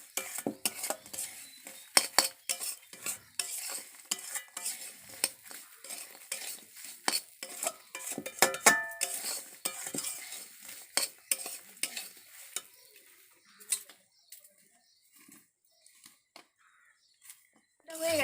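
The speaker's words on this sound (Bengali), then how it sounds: "এবার আমরা এটাকে ভালো করে ভেজে নেব।" Semolina kofta fries in a pan with a soft sizzle as a utensil scrapes and stirs rhythmically, the clatter fading toward the end, with some speech in the background.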